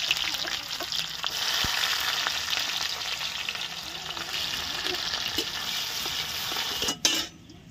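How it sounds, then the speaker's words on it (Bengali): Whole spices, dried red chillies and cumin seeds sizzle and crackle in hot oil for tempering, a loud steady frying hiss close by with occasional stirring clinks, cut off abruptly near the end. "তেলটা আমাদের গরম হয়ে গেছে, শুকনো লঙ্কা আর জিরে ফোড়নের জন্য।"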